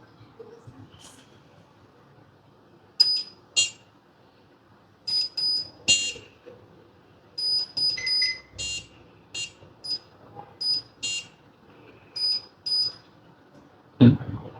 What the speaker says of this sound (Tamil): இப்போ நீங்கள் வந்து பீப் மோட் வச்சுக்கலாம். 2 பக்கம் பீப் சவுண்ட் வருது